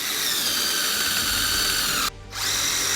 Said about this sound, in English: when you're drilling, you want to make sure that you're at a 90-degree angle and square going through.